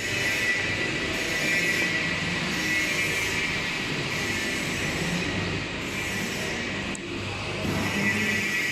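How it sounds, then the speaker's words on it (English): A miniature tourist track train with four carriages runs steadily, a continuous rolling rumble with faint wheel and rail noise at moderate distance and no talking. "This is a miniature train."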